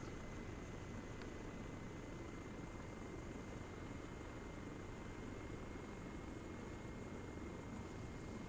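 Helicopter lifting off in the ArmA 3 video game, a steady broadband rotor and engine roar holding constant and loud throughout, with no talk over it.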